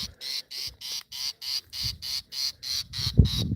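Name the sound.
fiscal shrike alarm call at yellow mongoose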